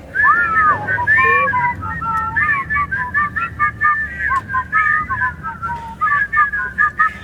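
A melodic whistled tune carried by several people together at a birthday celebration, steady and close, phrase after phrase with short breaths between.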